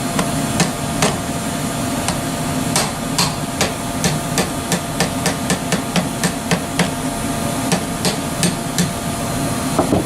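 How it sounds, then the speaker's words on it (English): A hammer strikes HP9 parts during disassembly, sharp metallic blows landing in quick irregular bursts over a low steady background hum, loud and close with no talking. "I'm hitting everything with a hammer"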